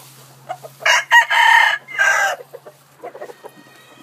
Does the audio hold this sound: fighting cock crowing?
yes